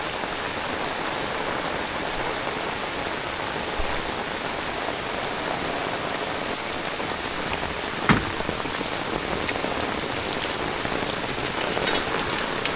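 Heavy rain drums steadily on a rooftop garden with a water tank, a loud, continuous patter of drops with no talking, one sharper splash standing out midway.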